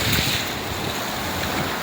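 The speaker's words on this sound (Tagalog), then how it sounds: "Hinihintay natin yung alon para hugasan niya yung ating mga batong nakuha." Sea waves wash over shore stones on a beach, a brief rushing hiss of surf mixed with wind buffeting the microphone.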